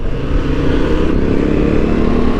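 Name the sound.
KTM 1290 motorcycle riding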